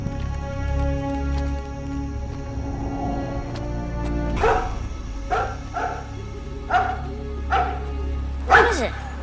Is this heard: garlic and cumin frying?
no